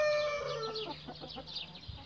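Brahma chickens cluck in a short burst of repeated, overlapping calls, fairly close and moderately loud, with no voices over them.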